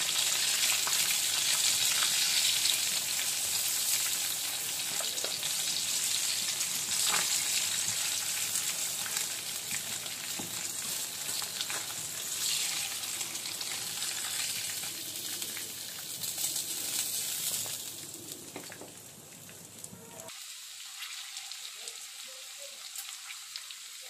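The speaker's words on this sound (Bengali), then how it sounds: "মাছগুলো লাল লাল করে এক পিঠ ভেজে নিয়েছি, আরেক পিঠ ভাজা হলে তুলে নেব।" Fish sizzles steadily in hot oil in a pan, a dense and loud crackle that runs for about twenty seconds before cutting off abruptly, leaving near silence.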